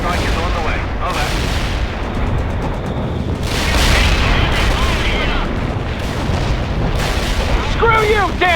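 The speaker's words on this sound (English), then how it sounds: "The airstrike is on the way." Airstrike explosions in World in Conflict, the real-time war game: heavy booms and rolling artillery-like blasts burst one after another, loud and close, with radio-style voices talking over the barrage.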